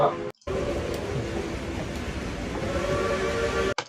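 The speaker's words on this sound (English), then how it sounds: "Let's see the train." A train rumbles past steadily and fairly loudly for a few seconds, with brief gaps of near silence at the start and end and a faint tonal whine riding over the rumble.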